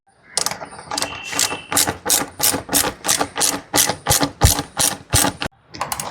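Nuts and bolts on a Triumph Scrambler 400X windshield visor are tightened with a ratcheting tool. Loud, close, rhythmic clicking comes in a steady series of about a dozen bursts, with a brief pause before the last.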